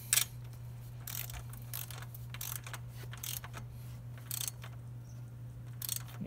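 Torque wrench tightening a 14 mm bolt to 21 foot-pounds while installing an OEM roof rack on a Monkey, faint sporadic ratchet clicks in short bursts over a steady low hum.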